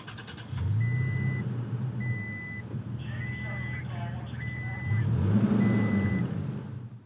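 A 2018 Toyota Tacoma TRD Off-Road with push-button start runs at a steady low engine hum, close by, while a repeating chime beeps inside the cab and a voice speaks briefly.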